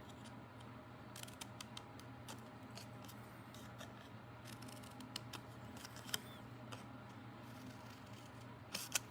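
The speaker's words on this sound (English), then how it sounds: "I just use my scissors and I snip down a little bit further on that." Sharp scissors snipping into paper flower petals for a handmade Christmas card: a scattering of quick, light cuts, close and fairly quiet, spaced irregularly over a low steady room hum.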